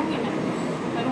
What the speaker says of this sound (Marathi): आणि तिथे ट्रेन जाते